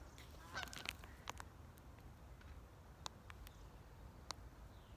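A flock of geese honks overhead in the sky outdoors, a handful of faint, distant calls scattered irregularly over quiet background hiss.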